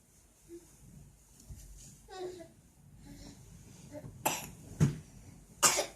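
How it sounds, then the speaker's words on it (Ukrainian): Quiet background with faint murmuring, then a few sharp coughs near the end, close to the microphone. "Що кашляешь."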